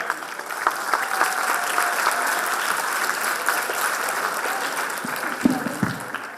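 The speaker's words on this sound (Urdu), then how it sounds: "پاکستان بزنس کونسل کے لیے ایک بار تالیاں بجائیں" An audience at a school competition finale on Iqbal Day claps in a steady, sustained round of applause that fills the hall, with a few louder thumps near the end.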